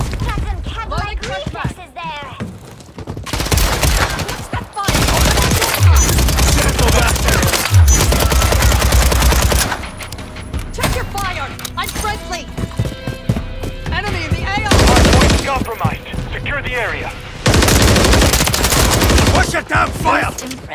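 Rapid gunfire from a Call of Duty: Modern Warfare 3 multiplayer match, loud bursts of shots recurring in several long volleys with shouted voices and battle chatter in between.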